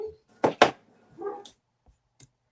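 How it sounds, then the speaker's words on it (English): A dog gives two sharp barks close by, followed by a softer whine and a few faint clicks in an otherwise quiet indoor room. "Sorry for the dog."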